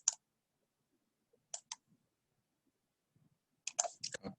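Computer keyboard keys pressed while working in Excel, isolated sharp clicks then a quick cluster of several taps, close and crisp against near silence.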